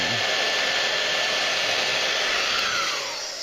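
A hair dryer switched to its cool setting blows a steady, loud broadband whoosh with a faint whine, used to cool warm resin while shaping a 1/35 scale model part, running alone without a voice before easing slightly at the end.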